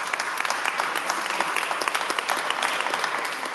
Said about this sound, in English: Give these ladies a round of applause.